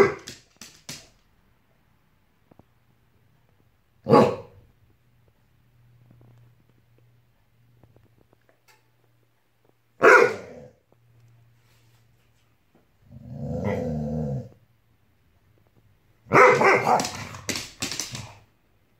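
A dog barks in several separate bursts spread across the scene, with a low steady hum between them and a longer, busier stretch of yipping and barking near the end.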